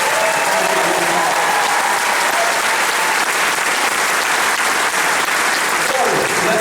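A large audience at Jack Hanna's wild animal show at Busch Gardens Tampa breaks into loud, sustained applause, a dense and even wash of clapping that carries on steadily without pause.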